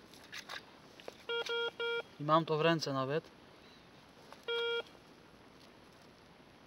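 A metal detector sounds off during a night dig for coins: a few short, clean beeps, then a loud warbling tone, then one more beep, with a voice in the background.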